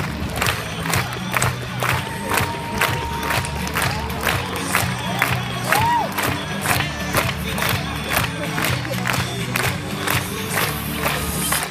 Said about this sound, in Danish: Giv dem en hånd på vej ud